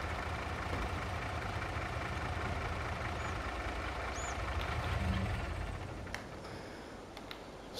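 A vehicle engine idles and runs in Farming Simulator 22 on the Elmcreek map: a steady, continuous low rumble with a faint ticking edge. It stays even throughout and eases slightly toward the end, with no talking.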